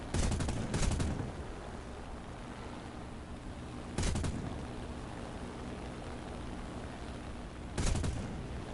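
Aircraft armament of two .30 caliber machine guns and one 20 mm cannon fires in War Thunder: three short, sharp bursts spaced a few seconds apart, with a steady engine drone between them.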